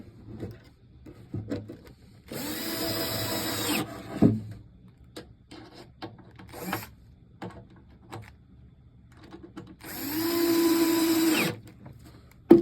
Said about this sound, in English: Got my screws in already. Screw in the other side.